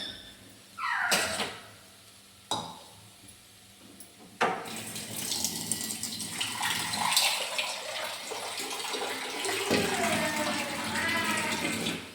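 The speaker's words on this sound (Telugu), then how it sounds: "వేగిన తర్వాత అప్పుడు వాటర్ పోసుకోవాలి." Water poured from a vessel into a hot pan of fried field beans and onions for a Telugu bean curry, a hissing, splashing rush after a few brief clatters, running steadily and moderately loud to the end.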